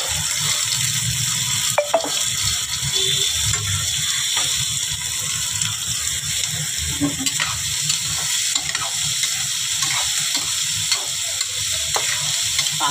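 Chopped onions with green chillies sizzle and fry in a pan, with a steady close crackle throughout and occasional stirring scrapes and clinks, no talking.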